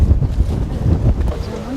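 Strong Mistral wind buffets the microphone aboard a sailing catamaran in the Balearic Islands, a loud, continuous low rumble with gusty swells throughout and no clear speech.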